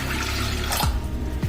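Water poured into a pot of washed toor dal, a brief close gush of splashing liquid with a couple of sloshing bursts, no talk.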